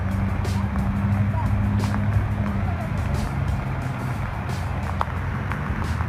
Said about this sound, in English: Oh, the car's backing up, hopefully just in time